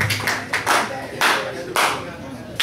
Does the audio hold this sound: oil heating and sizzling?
no